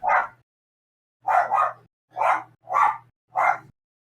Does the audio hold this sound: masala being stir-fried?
no